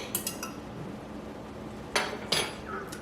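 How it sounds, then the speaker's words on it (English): A spoon stirs dry active yeast in a bowl, making quiet close scraping with a few sharp clinks against the side. "We'll give this a stir and let it sit for a minute."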